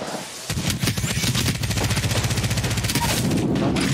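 Rapid automatic gunfire in a battle royale shooter game, a loud, close stream of shots that starts abruptly and runs almost without a break to the end, with a brief voice underneath.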